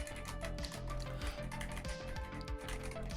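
Soft, steady clacking of keys typed in a quick stream on a MonsGeek M1W-HE mechanical keyboard with magnetic switches, close by and fairly quiet over a low background hum.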